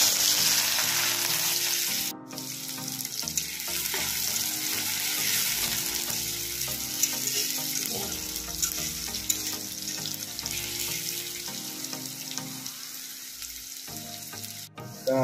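Onions fry in hot oil with whole spices for a bekti fish curry, a loud steady sizzle with occasional stirring scrapes, continuous throughout and no talking.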